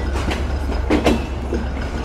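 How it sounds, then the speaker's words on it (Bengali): The Kapotaksha Express, a broad-gauge intercity train, rumbles as it leaves Khulna railway station, with a steady low roar and a few clanks and squeals over the top, loud and close. "আমাদের ট্রেন যখন খুলনা রেলওয়ে স্টেশন ত্যাগ করে"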